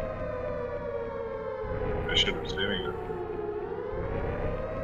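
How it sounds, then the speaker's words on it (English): A civil defense siren wails steadily in Dread X Collection 3, a long drawn tone held throughout while a person speaks briefly over it. "Why the siren?"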